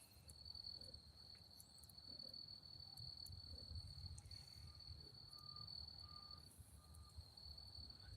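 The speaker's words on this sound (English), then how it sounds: "Yeah, the crickets are out." Crickets chirp steadily outdoors at night, a continuous high trill with a low background hum and occasional faint short beeps in the distance.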